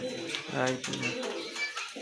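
Rajgolla pigeons at a pigeon seller's coop coo in low, throaty runs, mixed with a voice for much of the two seconds.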